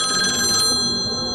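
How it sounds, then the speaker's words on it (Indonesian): A hotel room telephone bell rings loudly and close, a bright trilling ring that fades out toward the end, with no talking. "telepon di kamar itu bunyi kenceng banget"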